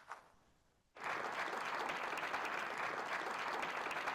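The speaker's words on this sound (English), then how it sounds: "how about a round of applause for our panel?" Applause for a panel at a talk on AI and finance, starting after a quiet pause and continuing as a steady, full clapping from the audience until the end.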